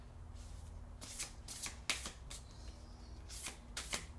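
Tarot cards being shuffled by hand in several quick, crisp riffling bursts, close and fairly quiet, with soft handling noise between them.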